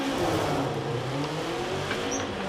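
Forza Horizon 4 car launching from a standstill without launch control, a steady, loud engine roar rising through the revs with possible wheelspin, continuous throughout with no talk.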